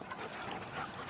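Dogs panting and playing rough together outdoors, a steady close, continuous breathy rustle with soft whimpers and yips running through the whole stretch.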